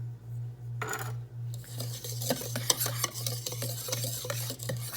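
Unsweetened cocoa powder and baking powder stirred together in a bowl for a keto chocolate cake, with soft, quick scraping strokes over a steady low hum, close by, with no voices.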